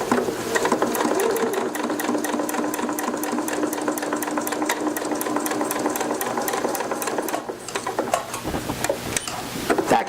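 Sewing machine running steadily while stitching fused plastic flowers, a fast even mechanical whir with rapid needle ticks for about seven seconds, then stopping and leaving a few quieter clicks and handling noises.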